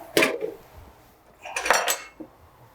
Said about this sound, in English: Just mix all the chickpeas.